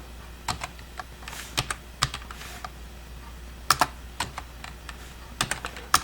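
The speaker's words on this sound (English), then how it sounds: "Press the tab key, press input general, enter." Computer keyboard keys tapped one at a time while configuring a Raspberry Pi 4 MAME emulator, crisp close clicks in irregular bursts over quiet background hum.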